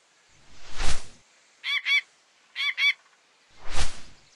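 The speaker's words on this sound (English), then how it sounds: "Hawk." A hawk call from an educational animal game for young children: two paired bursts of harsh, nasal cries in the middle, framed by two broad whooshing swells, with no talk.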